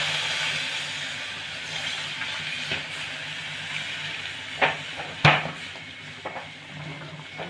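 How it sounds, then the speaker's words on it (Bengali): Milk is poured onto hot melted, caramelised sugar in a pan for homemade kulfi, a rushing hiss and sizzle that fades, broken by a few sharp clanks of utensil against pan. "দুধটা ঢেলে দেবো।"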